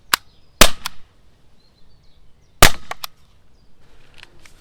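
Two sharp, loud shots from an air gun firing caliber .50 rubber steel ammo, each a crisp crack followed by a short ringing tail, spaced about two seconds apart against a quiet background.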